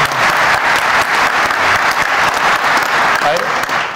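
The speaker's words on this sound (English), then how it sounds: "A nice round of applause, actually." A conference audience breaks into a loud, dense round of applause that stays strong and steady, with some voices mixed into the clapping.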